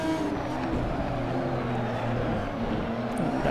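A Chevrolet Camaro GT3 race car in a simulated GT3 race at Paul Ricard, its engine droning steadily and loudly with shifting harmonic tones, as if heard from an onboard or chase view, with no break throughout.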